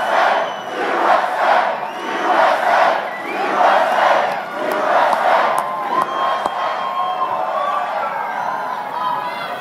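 Huge political rally crowd in Lebanon, Ohio, cheering and chanting in loud rhythmic waves that swell and fade, filling the space with roaring voices and whistles.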